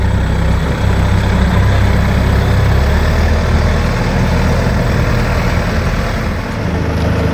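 The engine of a small bucket loader rumbles steadily in first gear, a loud, close, low drone that holds even throughout.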